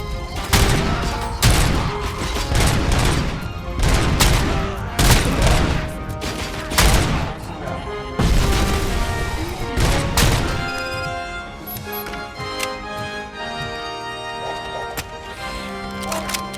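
Heavy bursts of gunfire and booms in a fight in the video game RoboCop: Rogue City come in rapid volleys. Explosive hits punctuate the fight before it eases into a quieter musical tail.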